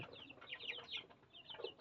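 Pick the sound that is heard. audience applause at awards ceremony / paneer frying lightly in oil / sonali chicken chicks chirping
sonali chicken chicks chirping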